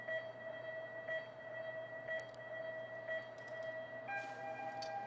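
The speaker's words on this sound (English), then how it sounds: "you'll hear tones from 5 down to 1, and then the start tone will be a different tone." Countdown timing tones for a cycling hour record in a velodrome: a series of five evenly spaced beeps about a second apart, then a higher, different start tone, heard over faint background noise.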